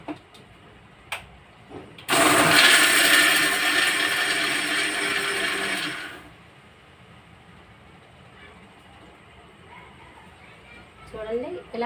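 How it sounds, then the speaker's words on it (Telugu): A mixer grinder whirs through chutney ingredients with salt in one loud burst of about four seconds, set between quiet stretches. "వేసేసి మిక్సీ పడాలి."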